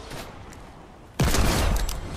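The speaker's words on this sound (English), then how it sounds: "I'm getting shot at." After a second of quiet, a sudden loud burst of rapid gunfire erupts in the video game Fortnite and keeps going to the end.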